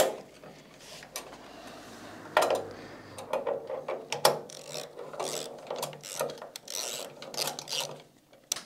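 A wrench turns and tightens nuts on the greased, threaded shaft of a Citroën AZU suspension, producing close scraping, rasping metal-on-metal sounds with intermittent clicks and knocks over a faint background.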